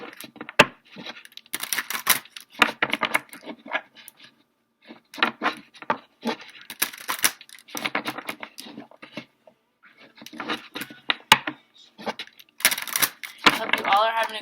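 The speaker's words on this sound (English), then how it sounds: "I'm going to shuffle these cards up a little bit" A deck of cards, likely for a tarot reading, is shuffled by hand, making crisp, close-up bursts of rapid riffling and flicking. Short pauses separate the repeated shuffles.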